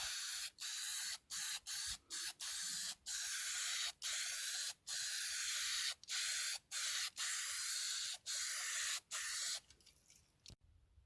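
Close aerosol can of rebuild black paint hissing in repeated bursts of a second or so, separated by short gaps, while coating a part from an old John Deere Sabre lawnmower, ending with softer hiss and a faint clunk.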